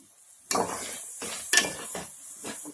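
Raw banana pieces with tomatoes and salt are stirred in a pan for curry, giving a few close scraping and clattering strokes with a faint sizzle, alone without talk.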